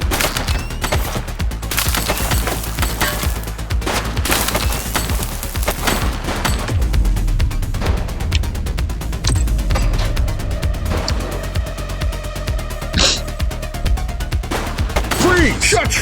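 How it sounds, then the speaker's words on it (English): Gunfire in the police game The Precinct: rapid, loud volleys of shots crack and rattle continuously amid the street chaos, with sharp impacts scattered throughout. "He's shooting!"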